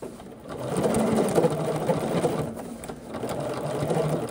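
A sewing machine runs steadily, stitching a pants inseam up to the stitching line, with a continuous close whir that dips briefly midway and then resumes.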